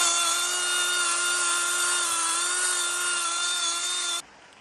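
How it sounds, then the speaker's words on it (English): A wire brush on a power tool spins steadily against a rusty tow hitch on a Mercedes 308D motorhome, one continuous loud whirring drone that cuts off sharply near the end. "just going to give this a wire brushing, the toe hitch"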